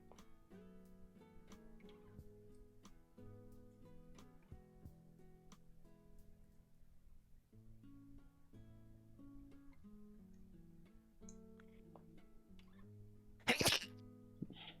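A single loud sneeze bursts out near the end, close to the microphone, over a quiet background of soft music and light ticking while Gundam model kits are built.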